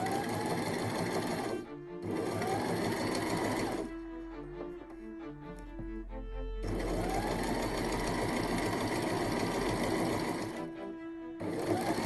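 A sewing machine stitches a tiny doll's house mattress in steady fast bursts, its even motor whir stopping and restarting several times with short quiet gaps between runs.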